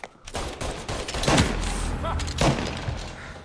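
Gunfire in the video game Mafia Definitive Edition, several sharp shots and thuds fired in quick succession over a dense game mix, loud and close.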